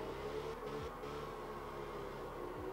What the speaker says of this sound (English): If you hold the power down, you can hear the engine revving hard